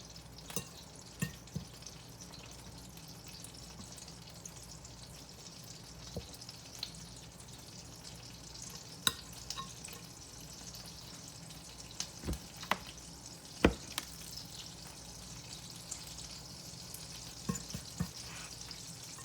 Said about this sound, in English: So hopefully I'll be able to fry all 3 of these pieces at the same time.